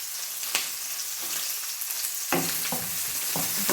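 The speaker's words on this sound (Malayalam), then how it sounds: "പച്ചമുളക്, പിന്നെ അതിൻ്റെ കൂടെ 2 വറ്റൽമുളക് കൂടെ ഇട്ട് കൊടുക്കണം" Green chillies and two dried red chillies fry in hot oil for a quick tomato buttermilk curry, a steady close sizzle with sharp crackles and a few stirring knocks, louder toward the end, no talking.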